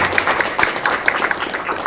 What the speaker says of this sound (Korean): 그런 박수로 환영해 주시기 바랍니다